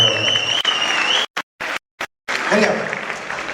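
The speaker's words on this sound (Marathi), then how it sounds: "आता पुन्हा टाळ्या." Audience applause at a comedy show at JSPM Pusad, a broad wash of clapping that breaks off into short gaps of silence before swelling back up, with voices faintly mixed in.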